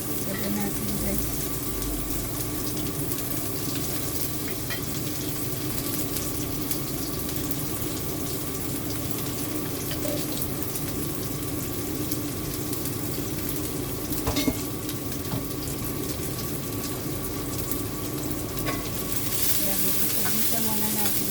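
Shrimp paste (bagoong) sizzles steadily in hot oil while sautéed for pinakbet, a close, continuous frying hiss with occasional stirring clinks throughout.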